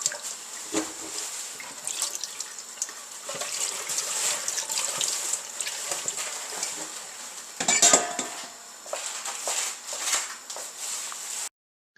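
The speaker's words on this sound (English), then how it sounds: "Place the sweet corn into cold water." Sweetcorn cobs lowered into a bowl of cold water in a kitchen, with sloshing, splashing and clinking of dishes and utensils, a steady close clatter that briefly peaks midway and stops abruptly at the end.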